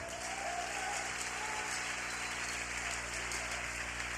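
A church congregation applauds and acclaims the Lord during a French-language sermon, a steady, dense wash of clapping from many hands that holds at an even level throughout, with faint voices mixed in.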